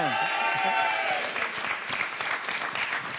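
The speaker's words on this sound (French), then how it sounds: "on applaudit" A television studio audience applauds steadily on a couples' game show, with dense, sustained clapping filling the space from start to finish while a voice speaks faintly underneath at the beginning.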